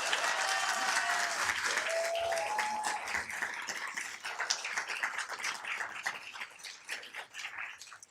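An audience at a city council meeting applauds a newly sworn-in councilmember, steady broadband clapping for most of the stretch with a few brief whistles, fading slightly toward the end.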